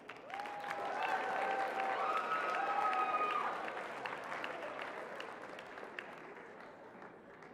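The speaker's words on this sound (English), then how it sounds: "I want you to give them all a big old round of applause." An audience gives a round of applause at a live open-mic performance night, a dense wash of clapping that swells loud and steady, with a few cheers and whistles rising over it, then slowly thins out toward the end.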